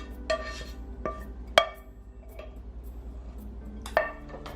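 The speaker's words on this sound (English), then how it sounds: "Then add in your garlic and onions. And mix that in there." Garlic and onions being stirred into spaghetti squash in a dish, heard as a few sharp scraping clinks of a utensil against the pan with softer stirring between them, close and alone.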